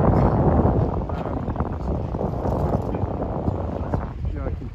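Breezy wind buffets the microphone out on a river, a steady broadband rush with gusting swells that runs the whole time, joined by faint water and boat noise.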